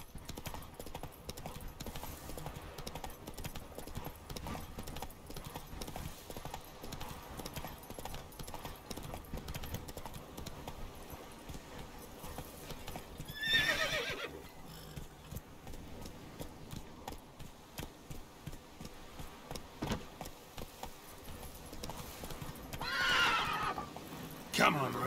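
Roach, a horse in The Witcher 3, clip-clops at a steady gallop throughout, and two loud whinnies break through. Faint speech is also heard.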